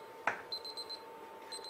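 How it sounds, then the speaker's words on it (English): A meat thermometer probe alarm goes off in a home kitchen while roast beef cooks, giving faint, rapid high-pitched beeps in two short bursts after a soft knock, heard from a little distance. "see the alarm go off?"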